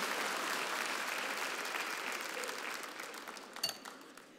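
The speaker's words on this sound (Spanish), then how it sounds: "¿Cuánto aplauden al Señor por esa frase bíblica?" A church congregation applauds at a sermon, a dense, steady wash of many hands clapping together that thins and fades toward the end, with a few sharper claps near the close.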